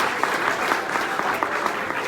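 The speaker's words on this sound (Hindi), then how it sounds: "तो ऐसे आशीष सर और प्रशिक सर के लिए एक बार फिर से जोरदार तालियां बनती है।" An audience at a motivational talk breaks into loud, sustained applause, dense rapid clapping from many hands throughout, close and with no voices over it.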